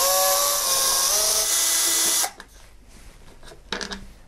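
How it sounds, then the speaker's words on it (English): Power screwdriver whirring as the three bottom screws come out of a Behringer DeepMind 12 desktop synthesizer module, a steady close whine for about two seconds, then quieter handling clicks and taps. "First of all, we need to remove the three bottom screws."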